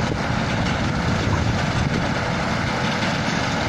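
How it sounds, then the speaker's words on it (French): A 170 horsepower tractor carrying a 6.40 m mowing machine cutting organic triticale, its engine a steady loud rumbling drone with no pauses. "la machine 6 m 40 est sur un tracteur donc de 170 chevaux"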